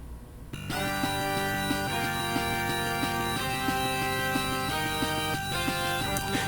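F-Zero X music rebuilt in the Advance Wars 2 game engine, a busy, loud chiptune-style track with a driving rhythmic beat and layered melodic tones, playing alone without speech.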